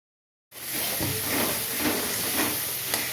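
Cumin seeds and bay leaves sizzle and hiss steadily in hot oil for a curry tempering, with a constant close spitting crackle that begins abruptly after a brief silence and then holds level.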